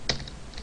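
Keystrokes on a computer keyboard while entering Java code, a quick cluster of close, crisp clicks with a sharp first tap followed by lighter, softer presses, heard alone without talk.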